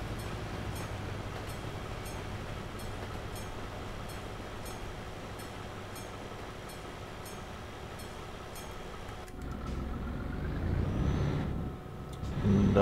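A train rolls past in Switzerland, a steady broad rumble with faint high squeals that holds for about nine seconds before giving way to closer, louder low noise and rustling.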